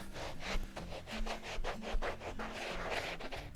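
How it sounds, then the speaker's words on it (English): A pumice stone or sander rasps back and forth across an elk hide on a fleshing beam in steady, quick strokes, close and continuous with no voices. "grab your pumice or your sander and just back and forth"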